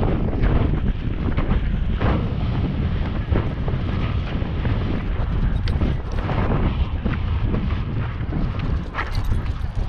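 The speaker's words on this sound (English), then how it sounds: "it's a bit chilly in the wind" Wind buffeting a microphone outdoors on a walk in a park, a loud, continuous low roar with gusty swells that persist throughout.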